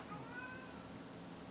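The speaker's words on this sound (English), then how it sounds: "Sorry, my cat's just meowed." A house cat gives a single short meow, faint and a little distant, over a low steady room hum with no talk.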